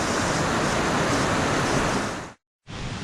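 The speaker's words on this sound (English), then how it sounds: "Starting to pour with rain again." Heavy rain pours down near a volcanic hot spring in Tolima, Colombia, a dense loud hiss that cuts out to silence briefly before resuming.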